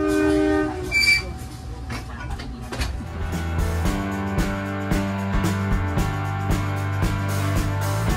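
KA Airlangga passenger train departing, with a horn blast early on, then a rising engine drone and rhythmic clickety-clack of wheels on rail joints as it picks up speed, heard from on board.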